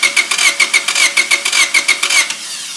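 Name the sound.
car engine cranking over via remote starter switch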